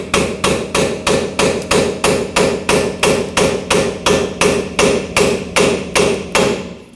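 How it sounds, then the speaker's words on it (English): Rapid, loud, evenly spaced hammer blows driving a pry bar into the steering knuckle of a Nissan Frontier 2WD, about twenty metallic strikes in a steady rhythm, close and alone. "take a pry bar or a chisel or something that'll fit in here nice and tight, hammer it in"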